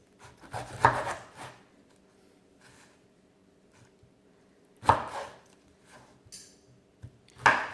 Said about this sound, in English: This knife is not cutting this straight.